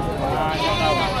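Goat bleating at a livestock auction in Padre Garcia, Batangas, one wavering bleat close by, mixed with people talking nearby.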